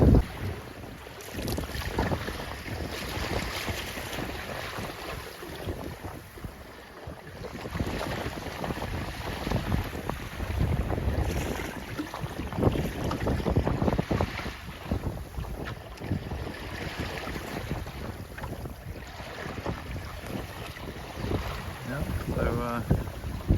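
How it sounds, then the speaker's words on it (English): Strong wind roars over a sailboat flying only its mizzen, with steady loud gusts buffeting the microphone along with the wash of water and the creak of the boat throughout. "actually there's really quite a lot of wind"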